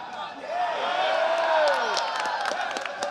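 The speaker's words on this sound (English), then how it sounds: "Every time Silva strikes though, he's getting a good pop from the crowd." Spectators at a jiu-jitsu grappling match cheering as a fighter named Silva strikes, a rising swell of crowd noise with whistles and sharp claps, while a commentator talks over it.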